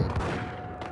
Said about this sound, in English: Oh my god, they're shooting at me.